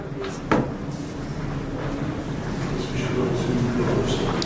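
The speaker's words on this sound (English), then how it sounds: "Look at this little secret hidden door." A small secret hidden door in a hotel room aboard the Queen Mary is opened, giving one brief close clack early on, then only a steady low room hum.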